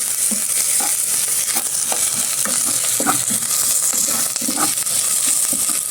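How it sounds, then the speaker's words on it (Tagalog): Garlic frying in a pan gives a steady close sizzle throughout, with soft scraping stirs breaking through now and then and no talking. "Ilagay ko na rin yung ating bawang mga boss."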